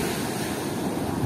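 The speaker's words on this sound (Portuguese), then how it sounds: "Onda quebra lá e não quebra ali" Ocean waves breaking on a summer beach, a continuous loud roar of surf mixed with wind noise buffeting the microphone, no voices.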